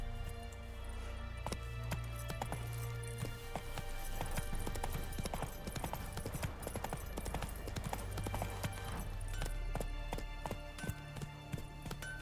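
Roach, Geralt's horse in The Witcher 3, clip-clops at a steady trot, with close, rhythmic hoofbeats continuing over a low musical drone.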